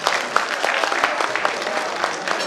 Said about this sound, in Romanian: Încă o dată aplauze pentru grupul de la Grăiceana.